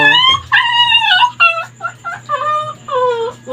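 Close, insistent high-pitched whines from a leashed Labrador come in short repeated bursts, rising and falling, with a faint low hum underneath.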